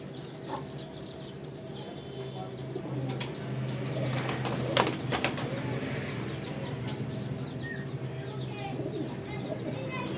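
High-flyer pigeons in Pakistan coo steadily at close range, with a brief burst of wing flapping partway through, over a low continuous background hum.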